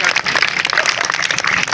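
A crowd at a Punjabi fair street show claps loudly and continuously, rapid overlapping hand claps close by with voices mixed in beneath.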